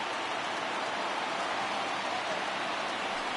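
A baseball stadium crowd of over 39,000 stands late in the game, a dense, steady roar of cheering that holds loud and even throughout, with no talk over it.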